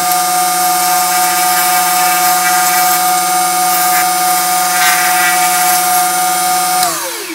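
A brass hammer head spins on a metal lathe with a loud, steady whine and a constant tone. The pitch holds unchanged until the machine winds down near the end. No one speaks.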